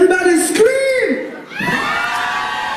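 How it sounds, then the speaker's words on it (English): A festival concert crowd screams and cheers in a loud, continuous roar at a West African music festival, a brief dip partway through before the shouting surges back, with whoops rising over the mass of voices. "So everybody, get it out, scream!"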